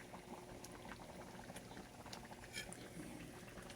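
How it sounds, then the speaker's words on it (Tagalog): Water boiling in a cooking pot with eggs added, a steady bubbling roil close by that holds at an even level throughout, with no talk over it. "kumukulo na siya"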